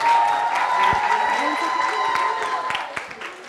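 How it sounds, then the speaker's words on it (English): Applause and some cheering from an audience for a fourth grade class at a church school event, fairly loud at first, then thinning out into scattered claps. "One last round of applause for our fourth grade class."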